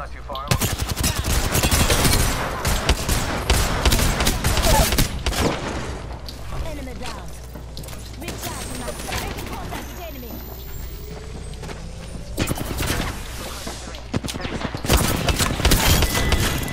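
Heavy gunfire in Apex Legends, with rapid automatic bursts and dense volleys that are loud and close. A quieter stretch in the middle has scattered shots, then the firing intensifies again, and a voice speaks over the action.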